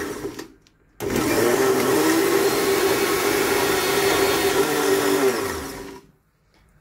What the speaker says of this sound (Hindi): इसको अच्छे से ब्लेंड करना है